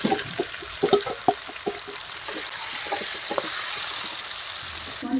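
Marinated jackfruit is added to golden-brown fried onions in a pan, and a dense, close sizzle follows, with clustered scraping and bubbling at first before it settles into a steady hiss.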